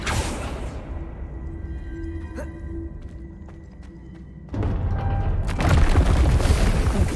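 Explosive Confringo spell blasts in the video game Hogwarts Legacy, a loud booming burst that jumps in level partway through and rolls on as a dense, rumbling roar to the end.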